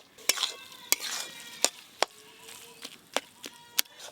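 Fish with spices being stirred in a pan, sharp spatula knocks and scrapes against the metal at an uneven rhythm over a faint sizzle, close and moderately quiet.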